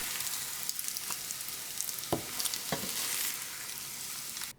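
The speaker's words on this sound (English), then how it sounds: "Gently stir eggs for up to a minute to make sure they're evenly cooked and not burned." Scrambled eggs sizzle in an oiled pan for a cucumber and egg stir-fry, giving a steady close frying hiss broken by several sharp scrapes of gentle stirring.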